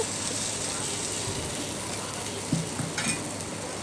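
Ragi flour bun dosa batter cooking in two spoons of oil in a small kadai: a steady, close sizzle with a couple of light metallic clinks toward the end and no talking.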